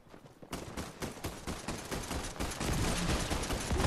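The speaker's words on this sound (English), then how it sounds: "I'm gonna run out of ammo if I keep just shooting at them though" Rapid automatic gunfire in the Fortnite video game, dense bursts of shots that start abruptly and keep up continuously, loud and close with no talk over them.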